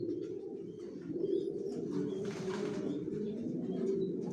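Racing pigeons of a long-distance Johnson grizzle line cooing softly in a loft, a steady low murmur of overlapping coos with faint chirps above, no talking.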